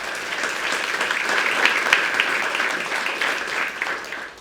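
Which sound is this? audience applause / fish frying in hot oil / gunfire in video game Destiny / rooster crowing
audience applause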